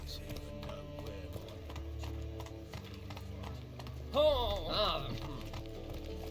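Horse hooves clip-clopping at a steady trot in The Witcher 3, a continuous rhythmic patter under music and a brief exclamation from a voice.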